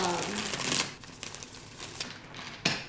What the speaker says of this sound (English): So I'm just going to shuffle the cards a few times.